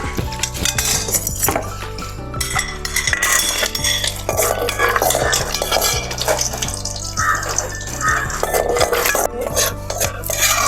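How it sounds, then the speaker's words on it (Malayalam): Cashew nuts roast in a pan for adapradhaman while a spoon scrapes and stirs them. Loud, steady metallic scraping and clinking runs nonstop at close range, with no talking. "അണ്ടിപ്പരിപ്പും കൂടി നമുക്ക് വറുത്തിടാം"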